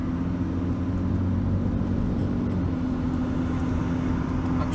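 A BMW E39 528i drives along with a steady low engine drone and road rumble, a constant near hum without sharp revving peaks.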